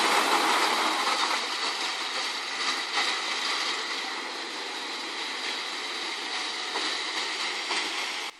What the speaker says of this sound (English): Watch as the tree shaking machine revolutionizes almond harvesting. By gently shaking the almond trees, it causes the almonds to fall